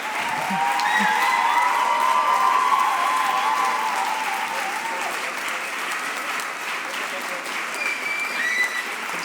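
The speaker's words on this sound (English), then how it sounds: "you can enjoy the applause." Sustained audience applause fills a hall at a speakers night during the European Forum Alpbach, a dense, even roar of many hands with scattered voices and brief whoops rising above it throughout.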